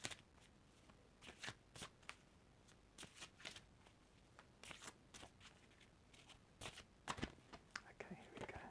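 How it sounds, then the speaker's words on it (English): Oracle of Archangel Metatron cards being shuffled close to the microphone, soft papery riffles and slides in irregular bursts, quiet and intimate, with a whispered voice in between. "give it a good shuffle to allow you some lovely ASMR"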